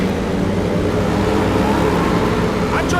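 Speedway motorcycle engine roaring at high revs as the rider wheelies across the finish line in FIM Speedway Grand Prix 15, Warsaw round, a loud continuous drone with crowd and commentary-like voices underneath.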